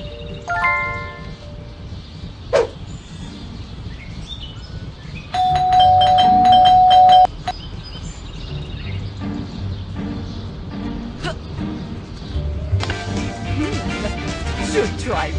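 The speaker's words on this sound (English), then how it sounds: "That stupid bell again." A doorbell in the Scary Teacher 3D video game chimes loudly for about two seconds with a sustained ringing tone, set amid game ambience, a few sharp knocks or clicks, and brief speech elsewhere in the scene.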